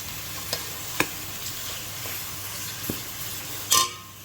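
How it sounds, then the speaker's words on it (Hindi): Minced beef keema with capsicum (shimla mirch) frying in a pan over a medium-high flame: steady sizzling hiss punctuated by sharp spoon clacks against the pan and a louder scrape near the end. "देखिए इसके अंदर डाल लेंगे कीमा और इसको भून लेंगे अच्छी तरह।"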